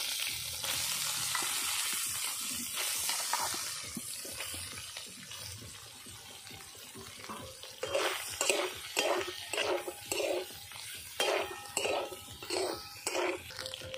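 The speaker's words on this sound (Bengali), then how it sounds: "সোয়াবিনগুলো আমি জল ঝরিয়ে রেখেছি, সুন্দর করে ভেজে নেব" Drained soybean chunks frying in a pan: a broad sizzle at first that eases, then a series of scraping, stirring knocks as the chunks are moved about, close and unvoiced.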